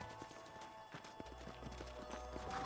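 Horses clip-clop on the ground during a Red Dead Redemption ride toward a fort, a busy patter of hoofbeats under low rumbling in-game ambience, fairly quiet throughout.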